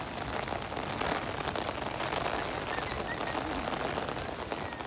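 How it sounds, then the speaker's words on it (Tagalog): Heavy rain pours on Boracay's Station 1 beach, a dense, loud, unbroken hiss of drops pattering on sand and an umbrella overhead, with no voices. "Grabe ang lakas ng ulan."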